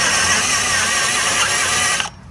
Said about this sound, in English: You can see just how well this Cobalt bit cuts that hard rivet.